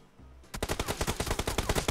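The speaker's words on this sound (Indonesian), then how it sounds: "Ada yang nembak dari atas tapi gak kena" Rapid burst of gunfire from above in a mobile battle-royale shooter game, a DBS shotgun match: a quiet moment, then a loud, fast train of sharp shots, roughly a dozen, firing in steady rhythm.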